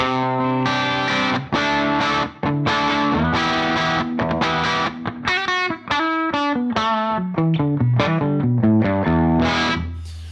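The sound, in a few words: guitar with tape drive saturation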